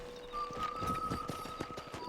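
Horse hooves clip-clopping in Red Dead Redemption on Xbox 360, a quiet, steady run of hoof thuds over a faint sustained game tone.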